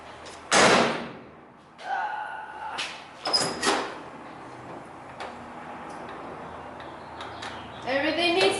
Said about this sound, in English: I just want to hear the door noise.